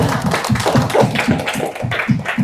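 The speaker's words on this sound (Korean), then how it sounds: "우리 한번 박수 한번 할까요?" Church congregation clapping together during a sermon, a loud, fairly rhythmic patter of many hands with a few voices mixed in.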